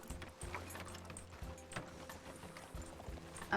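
Horse hooves clip-clopping at a walking pace in the RedM western roleplay game, a quiet, regular series of hoof strikes with no talk.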